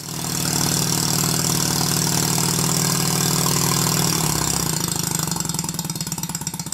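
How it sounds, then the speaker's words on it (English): A small Stuart Sirius model steam engine running on compressed air chugs rapidly and loudly with a steady, fast mechanical beat, its pace shifting slightly toward the end. "The engine runs a lot faster than the green one because the exhaust pipe is a larger diameter."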